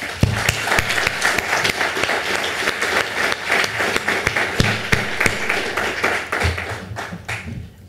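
A conference audience applauds steadily, dense overlapping claps filling the room at close range, then tapering off slightly at the end.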